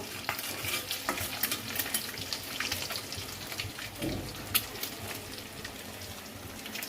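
Thinly sliced ginger and garlic sizzle in oil mixed with ghee as a tempering, a soft, steady frying crackle with occasional stirring clicks and a brief louder scrape midway.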